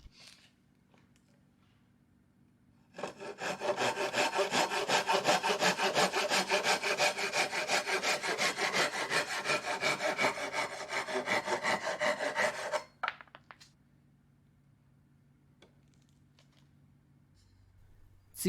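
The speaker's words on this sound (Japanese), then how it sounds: "材料を座と V 字型に切り込みを入れた抜きの上に置いてカットすることができます。" Hand saw cutting a 2x4 board resting in a V-notched support on a folding shaving horse, about ten seconds of steady rapid back-and-forth strokes, close and loud, with quiet room tone before and after.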